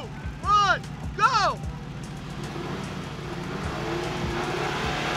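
Mercedes AMG G63 and Ford Bronco straining against each other in a tug of war, engines revving and droning under excited shouting voices, with two sharp rising bursts early on.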